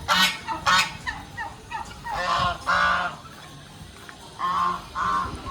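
Khaki Campbell ducks quack loudly and nearby in several raspy, honking bursts with short pauses between calls, with no talking.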